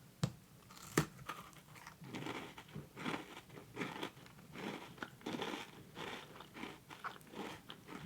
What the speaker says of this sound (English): But we'll start with our snowflake Spritz cookie. Hopefully you get some sounds from it.